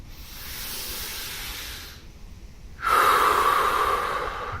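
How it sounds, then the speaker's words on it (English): Deep Wim Hof style belly breaths, close and loud: a long airy inhale, a brief quiet pause, then a stronger rushing breath with a whistling hiss, all without talk. "Okay, I'm gonna go ahead and start the breathing."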